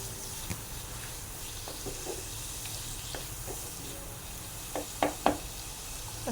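Sliced onions sautéing in a pan for Kerala-style banana flower thoran: a soft, steady sizzle with occasional spoon scrapes and a few sharper knocks against the pan near the end, no talking.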